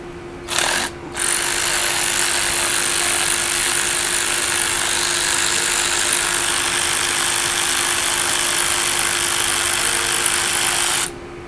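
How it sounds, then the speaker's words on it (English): An electric ratchet spins a hex bit socket from a WETT 32-piece set, a loud continuous mechanical whir running for about ten seconds after a brief start-and-stop at the beginning. "It's a nice fit, doesn't have any slop, and it works right with my electric ratchet."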